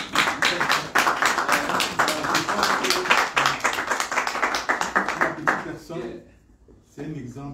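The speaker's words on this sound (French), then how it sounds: "je veux simplement demander d'applaudir" An audience claps at a Cameroonian community gathering in France, with a dense run of sharp claps carrying on under continuous speech before briefly thinning out.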